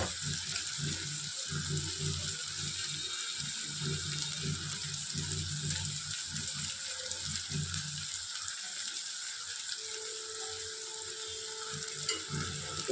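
Onions fry in oil in a pan with Kashmiri chili powder about to go in, giving a steady, close hiss and crackle interrupted by scraping stirs, continuing without talk.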